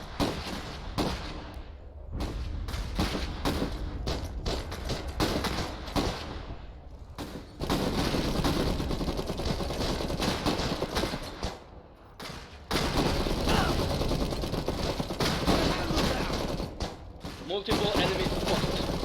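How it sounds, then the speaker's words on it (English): Heavy machine gun fire in the real-time strategy game Iron Harvest, dense bursts and rattling volleys running almost continuously amid battle noise, with unit voice lines and talk over the top. "Heavy machine gun here to Ready fight."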